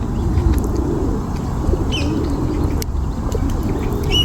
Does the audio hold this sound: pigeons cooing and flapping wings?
yes